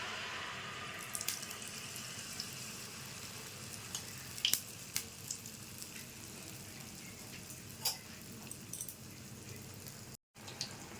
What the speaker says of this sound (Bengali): তেলটা গরম হয়ে গেছে, এবার পোয়া পিঠাটা ছেড়ে দিচ্ছি।